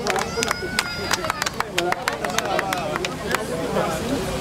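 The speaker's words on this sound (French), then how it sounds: "On l'applaudit, hein." An audience at a community association event applauds, with sharp scattered claps repeating over several seconds amid crowd chatter and voices.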